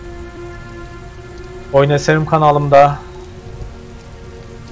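Steady downpour of heavy rain from the video game Heavy Rain, a constant wash running throughout while someone speaks briefly over it in the middle.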